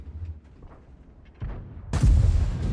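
In World of Tanks, a tank cannon fires with a sudden deep, booming blast after quieter rumbling game ambience, and the heavy roar lingers loudly to the end.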